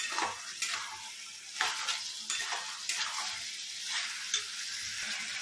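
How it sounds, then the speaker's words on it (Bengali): Fried capsicum and onions are stirred in a sizzling pan, with a spatula scraping the pan at a regular rhythm about every half second over a continuous close frying hiss. "আর এরপর এর মধ্যে দিয়ে দেবো হচ্ছে এই সমস্ত ভেজে রাখা ক্যাপসিকাম আর পেঁয়াজগুলো, আর এগুলোকে দিয়ে আমি এটাকে কিন্তু ভালো করে নেড়ে নেব।"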